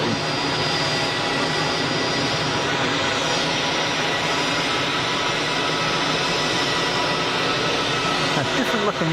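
Jet engines on a Eurowings airliner at Geneva Airport, a loud steady broadband roar with a low rumble that holds throughout, close by.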